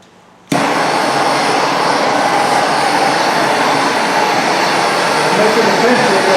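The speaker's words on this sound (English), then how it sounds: "let me fire up the map gas" A MAPP gas torch lights with an abrupt onset, then roars as a steady, loud, broadband hiss that holds unchanged for several seconds, close by.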